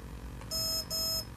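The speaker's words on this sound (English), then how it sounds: "so you're going to listen the one beep," A TowerPro MAG 8 18A brushless ESC emits two short, high electronic programming beeps in quick succession over a low background hum, close and clear.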